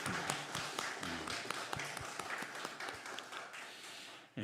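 A church congregation at a Korean Easter Sunday service claps in welcome, a dense spread of many hands that tails off toward the end.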